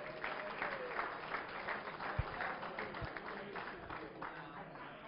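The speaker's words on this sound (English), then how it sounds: "let's give another round of applause for Lori Timmons," Banquet guests at an awards dinner give a round of applause, a modest, fairly distant patter of clapping with a couple of sharp thumps, while voices murmur and speech continues underneath.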